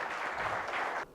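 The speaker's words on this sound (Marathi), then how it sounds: "जोरदार टाळ्या झाल्या पाहिजे यांच्यासाठी." An audience at a project presentation event claps for a student group, a short burst of fairly quiet, dense applause that cuts off abruptly after about a second.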